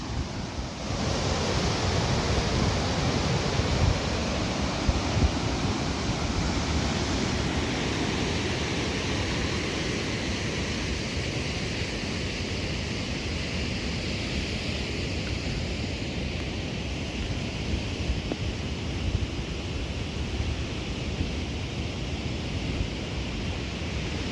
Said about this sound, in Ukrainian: Просто наче якась гес, вода так лупашить.